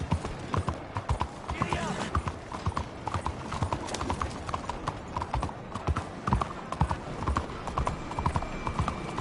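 Horse hooves clip-clop steadily on the ground in Red Dead Redemption 2, a close, continuous rhythmic trotting with a voice talking over the top.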